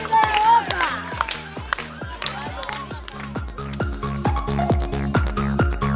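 Children and adults at a kids' crafts camp workshop clap together before a raffle, rhythmic and loud, with shouts and cheers mixed in.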